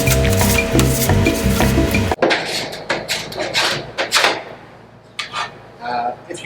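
A plastic scraper pulls wax off a snowboard base, giving a series of short, uneven scratching strokes that come close and fairly loud after a brief burst of music, then thin out with quiet gaps.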